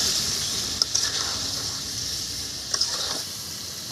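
Cauliflower tossed with garam masala, cumin and chili powder sizzles in a frying pan, a steady close hiss with a few light scraping clicks from stirring.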